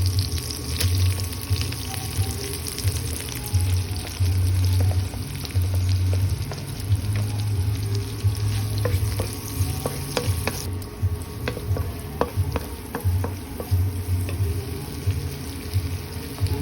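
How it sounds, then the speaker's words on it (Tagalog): Garlic and onion sauté in a pan with a steady, close sizzle and repeated stirring scrapes, a low continuous frying hiss running throughout with no talking. "and then we're gonna saute the garlic, and then the onion"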